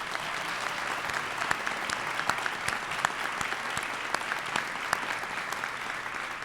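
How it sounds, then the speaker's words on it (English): Steady applause from a large audience honoring a senior class at a class night ceremony, a dense, even wash of clapping with a few sharper individual claps standing out, sustained throughout without any talk. "give them the first round of applause of the day."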